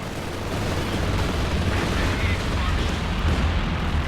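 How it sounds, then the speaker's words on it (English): An aircraft strafing troops in a strategy video game, a dense rumbling roar of impacts and booms lasting several seconds, with a voice talking over it. "A T-strafe on the troops in the base."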